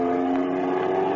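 A getaway car speeds away in an old radio drama sound effect, its engine giving a steady, droning hum at a constant pitch, heard alone without voices.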